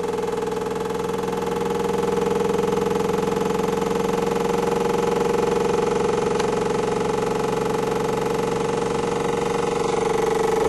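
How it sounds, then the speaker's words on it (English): An electric motor runs during a Lockridge coil test bench setup with a 1.2-ohm coil, giving a steady, continuous hum with even tone and level throughout, close and alone with no talking. "Motor is turning very, very nicely."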